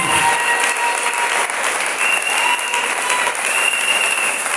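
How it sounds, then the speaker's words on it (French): Loud, dense applause fills a church service hall as the congregation claps for the Lord Jesus, a sustained roar of many hands with no break and no voices on top. "Applaudissons très fort le Seigneur Jésus."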